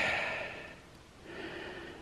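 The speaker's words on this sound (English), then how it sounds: "The cat's having a sniff, look." A cat sniffs close up, making a few soft nasal snorts and breaths in two short bursts separated by a quiet pause.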